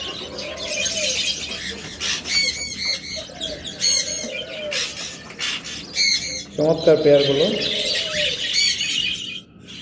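Budgerigar parakeets, a breeding pair with four chicks, chirp and squeal in shrill bursts near the microphone, with someone talking over the birds throughout.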